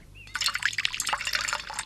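Water poured from a vessel into an animal's feeding bowl, a steady splashing, bubbling pour that starts after a brief pause and runs close and fairly loud to the end, with no voices.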